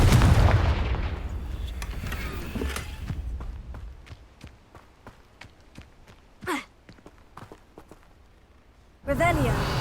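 In Hogwarts Legacy, a Confringo fire spell explodes with a loud, rumbling blast that slowly fades, followed by scattered light clicks and footsteps, then another sharp burst at the end.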